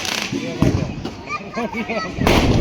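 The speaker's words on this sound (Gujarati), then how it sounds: "પછી તો વરરાજા ફોડી નાખે ફટાકડા" Sharp firecracker bangs burst loudly amid a noisy wedding crowd, with people talking and shouting close by between the pops.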